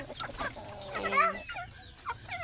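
Chickens cluck close by, with a drawn-out squawk in the middle over a low background rumble.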